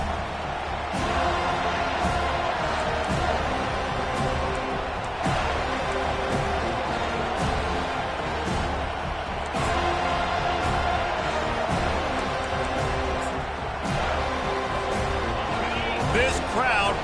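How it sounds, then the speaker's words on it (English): A college football video game stadium crowd, Penn State hosting the Seminoles, roars in a dense, steady wall of cheering and noise throughout, with a commentator talking over it. "This crowd bringing an ear-splitting welcome to their visitors."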